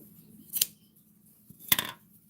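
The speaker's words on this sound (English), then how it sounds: "So I'm gonna cut about right here." Two quick, crisp snips of scissors cutting through quilt binding fabric while requilting a quilt, close and fairly quiet, spaced about a second apart with near silence between.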